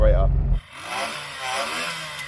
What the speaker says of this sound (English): So I'm going to rev up this Reliant Regal